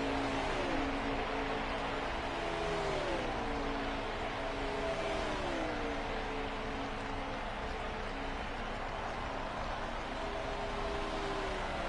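Ford F-150 race truck engine in a NASCAR Heat truck series race, a steady loud drone with gear-shift pitch sweeps rising and dropping repeatedly, running continuously with no talk.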